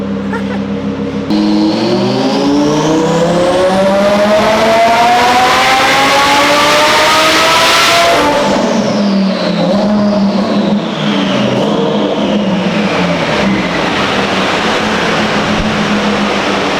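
A twin-turbo Audi R8 revs hard on a dyno, its engine note climbing steadily in pitch for several seconds before peaking and falling away, then flaring again; loud and close throughout.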